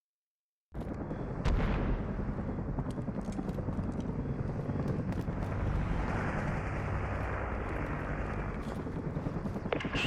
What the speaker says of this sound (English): That helo's targeting you!